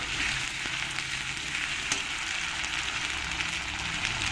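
Onions frying in a pan as a spoonful of ginger-garlic paste is stirred in, giving a steady close sizzle with faint scraping from the stirring, no voices.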